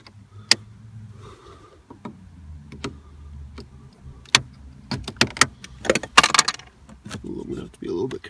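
Plastic center console trim being pried out of a car interior, with a series of sharp snapping clicks and scraping knocks close by, growing busier toward the end.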